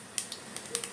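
Mustard seeds spluttering in hot oil while a Malvani-style val bhaji is cooked: a handful of quiet, sharp pops scattered irregularly over a faint background hiss.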